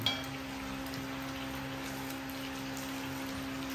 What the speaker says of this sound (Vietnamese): mình đang chiên bánh củ cải nha mấy bạn